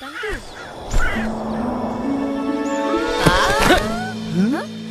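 A crow caws a few times in an animated cartoon scene, the harsh calls mixed with bright music tones and other effects, under and between voices.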